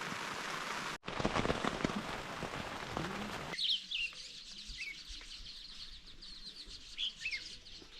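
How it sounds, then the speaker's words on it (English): Afternoon rain patters steadily on a surface at a campsite on Réunion island, loud at first, then easing into softer rain with birds chirping nearby. "You get rain in the afternoon almost every day."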